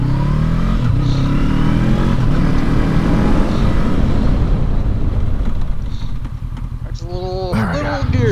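A Honda CBX motorcycle engine revs and rumbles up close as it shifts gears, its pitch rising and dropping with shifts, easing off late before a short burst of other noise.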